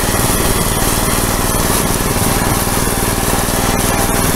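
An Agro walk-behind tractor mows hay in a rural plot in fourth gear, its small engine droning loud and steady at close range with a constant mechanical clatter, no voices.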